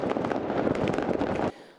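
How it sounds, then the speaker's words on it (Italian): Firecrackers and fireworks bursting on New Year's Eve in Naples, a dense crackling barrage of many overlapping bangs for about a second and a half before cutting off abruptly. "bisogna stare attenti e non usare quei botti molto molto pericolosi, illegali"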